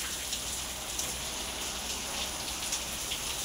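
Rain pouring down outside a home during a monsoon shower, a continuous close hiss with scattered louder drops and splashes throughout.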